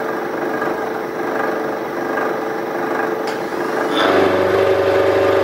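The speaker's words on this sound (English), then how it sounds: "As you can hear by the gears and the back gears working away there" A truck-mounted crane rest unit with a half-inch roughing cutter runs steadily, its gears giving off a continuous mechanical drone that shifts and grows louder and more tonal near the end.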